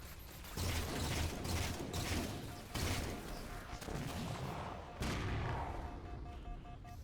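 Battle rifle gunfire in Halo 4, repeated clusters of sharp bursts separated by brief lulls, fairly faint against a dense battle backdrop with no talk.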